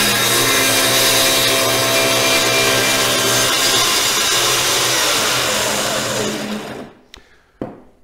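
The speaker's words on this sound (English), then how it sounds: "We're going to wait for the saw to settle down at full speed, and I'm going to plunge the cut." A circular saw at full speed plunge-cutting into a wood panel, a loud steady roaring whine for about seven seconds that then cuts off, leaving a couple of faint knocks in the quiet.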